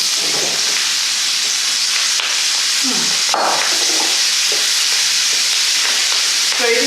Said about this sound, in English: into my garlic, I'm adding first the sprouts